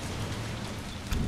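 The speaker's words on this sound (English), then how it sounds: "That window is open and it's raining." Steady rain hisses through an open window in the video game Resident Evil 3 Remake, a dense wash of noise with a brief louder swell toward the end.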